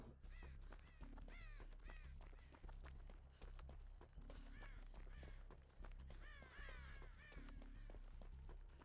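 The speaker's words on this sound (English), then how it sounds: "Disrupt all the crows." Crows in the video game Dead by Daylight caw repeatedly in harsh bursts, scattered across the scene at moderate loudness over a low steady rumble and what sound like running footsteps, with no voices.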